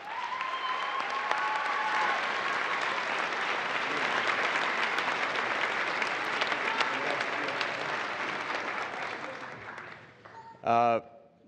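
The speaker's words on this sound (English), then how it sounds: "Please join me in a round of applause for them as well." A large audience applauds at a NASA astronaut candidate graduation ceremony, a steady dense roar of clapping that holds for about ten seconds before fading, followed by a brief voice.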